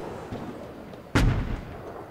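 A panzer tank cannon fires once in a video game, a single loud, heavy boom with a deep rumbling tail rising over steady low background noise.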